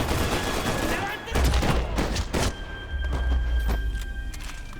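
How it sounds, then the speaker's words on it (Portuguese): Gunfire from the video game Max Payne 3 rattles in dense bursts of rapid shots with heavy thuds beneath, loud and continuous across the clip. "1000 tiros disparados."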